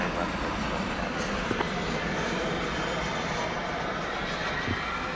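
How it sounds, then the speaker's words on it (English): An American Airlines jet arriving at Dallas/Fort Worth airport on its flight from Austin, heard as a steady, distant engine roar with broad rushing noise that holds evenly throughout, faint and without any talk. "Arriving from Austin, Texas, flight 1299, American Airlines."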